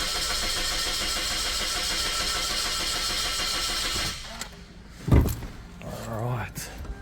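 A Suzuki Swift with a rough-running misfire cranks with a steady, even starter churn for about four seconds. It stops with a clunk, followed by some rustling and faint movement nearby.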